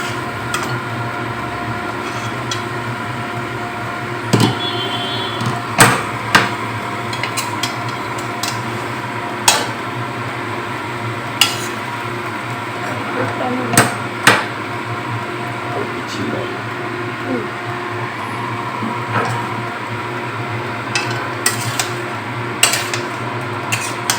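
Chicken frying in a pan over heat while being stirred, with a continuous sizzling hiss and repeated sharp scrapes and clinks of a spatula against the metal, spaced irregularly through the stretch, with a voice talking over it.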